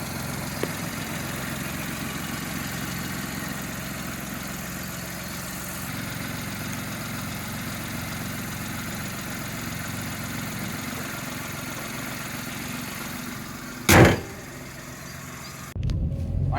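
Steady, low idle of a single-owner Maruti Alto engine, an even hum throughout with a brief sharp knock near the end.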